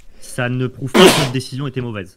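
A single sharp sneeze bursts out mid-conversation during a card game session, set between stretches of French speech from nearby talkers.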